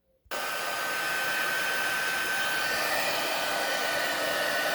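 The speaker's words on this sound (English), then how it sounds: "I'm going to turn on the heat emboss, and it's going to make a little bit of noise while it warms up" A heat embossing tool switches on and warms up with a sudden steady, loud whooshing blower drone that holds evenly to the end, without speech.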